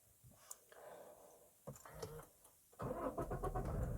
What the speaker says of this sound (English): So there the car turns on.